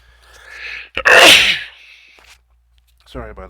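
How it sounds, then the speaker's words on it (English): A single sharp sneeze bursts out close to the mic, with brief speech sounds just before and after. "Sorry about that sneeze"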